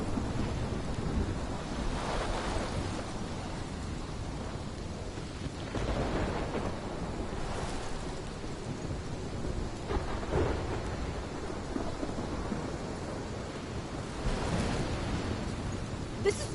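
Steady heavy rain pours through a thunderstorm in the video game Life Is Strange, with several deep rolling thunder rumbles swelling and fading over about sixteen seconds and no speech.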